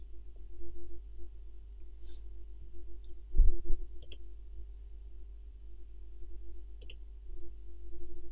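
A single sharp computer mouse click on the update button in a website editor, close and brief, over a quiet low room hum.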